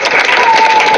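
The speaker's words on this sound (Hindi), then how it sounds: "इन चंद्रशेखर भैया, मास्टर जी के लिए ताली हो जाती है" Applause from the crowd at a village religious gathering for the event's organizer, a dense, steady wash of clapping with no gaps across one short second.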